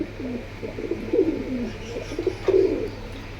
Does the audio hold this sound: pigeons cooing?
yes